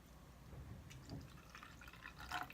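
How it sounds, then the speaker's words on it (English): Cold water is poured carefully from a coffee mug into a vessel, a faint, quiet trickle with light splashes and drips that builds toward the end, heard up close with no talking. "fill up this coffee mug with cold water. And I'm going to pour it in there as carefully as I can."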